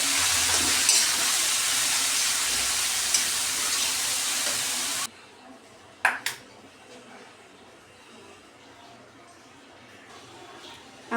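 Onions frying in oil on a stove for kalmi greens give a loud, steady sizzle that cuts off abruptly halfway, followed by quieter clinks of a utensil against the pan.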